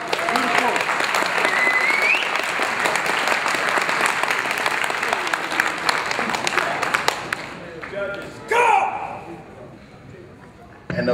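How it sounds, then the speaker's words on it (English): Loud, sustained applause and cheering from a stand-up comedy audience fill most of the stretch, then thin out and fade near the end, with a brief shout and a last burst of clapping. "Give him a round of applause."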